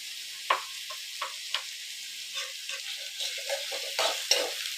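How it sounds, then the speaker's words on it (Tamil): Curry leaves and onions sauté in hot oil in a pan, giving a gentle continuous sizzle broken by occasional spatula taps and stirring scrapes, fairly close and quiet. "கருவேப்பிலை, வெங்காயம், போட்டு வதக்கலாம்."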